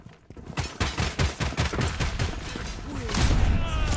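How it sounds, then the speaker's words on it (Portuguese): Automatic turret fire in the FragPunk video game, a steady stream of sharp shots at a fairly even rhythm that thickens into a denser burst toward the end. "Uma torreta."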